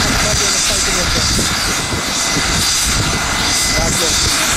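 A trauma helicopter (PH-TTR) flies near Sliedrecht with a loud, continuous engine and rotor roar that fills the whole clip, while people talk underneath.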